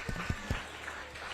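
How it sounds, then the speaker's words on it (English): An audience at a children's literature and culture festival gives a few quick, scattered claps, then settles into a soft murmur of the room. "Clap. Show me how."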